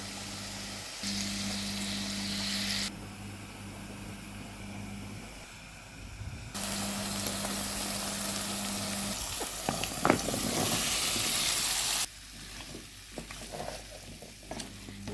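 Radish frying in a pan with cumin and curry powder for a fish dish, a steady close sizzle with a stirred, scraping texture, loudness shifting in blocks as the pan is worked, no voice.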